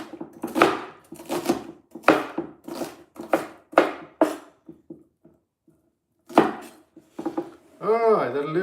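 Onions being chopped on a cutting board in a home kitchen while an Indian chicken curry is made: a steady run of close, crisp knife strokes, a short pause, then a few more strokes, ending with a brief scraping or rustling sound.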